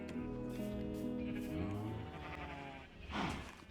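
Several sheep in Minecraft bleat in quick overlapping calls, moderately loud and close, over a low steady background hum.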